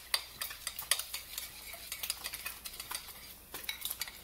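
Breakfast burrito filling with green enchilada sauce stirred in a pan, a quick run of close, quiet utensil scrapes and light taps, repeated irregularly with no talking.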